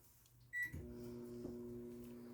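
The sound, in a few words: microwave oven running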